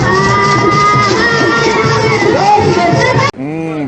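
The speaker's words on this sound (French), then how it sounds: "le marché des Kounou est pris d'assaut par une foule de curieux surexcités" An overexcited crowd of onlookers storming a market: loud, continuous hubbub of shouting voices with whoops, then a brief cut and a single louder cry at the end.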